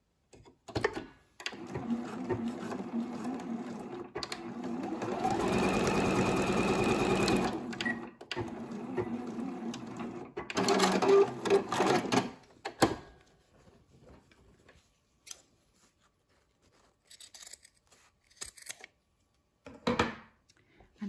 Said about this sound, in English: we're going to sew across here on our sewing machine